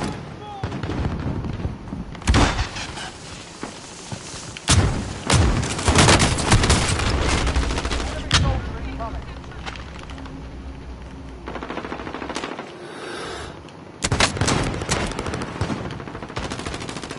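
Rapid automatic gunfire and heavy booms from a PS4 war-zone shooter game come in repeated loud bursts with brief pauses, while a voice talks over the action.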